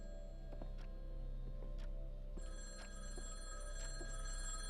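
A telephone bell rings in a quiet room, a repeating electronic trill heard faintly at a distance with no talking over it.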